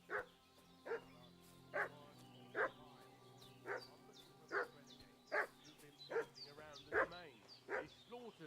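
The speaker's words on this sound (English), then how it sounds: "What's that dog making such a fuss about?" A dog in the video game Kingdom Come Deliverance 2 barks repeatedly in a steady rhythm, about ten sharp barks spaced roughly a second apart, clear and fairly near over a quiet background.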